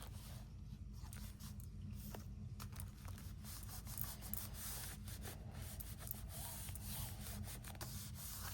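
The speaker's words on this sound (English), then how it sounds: "And give it a good burnish." A tool burnishes glued paper album pages with steady rubbing and scraping strokes, close and fairly quiet over a low background hum.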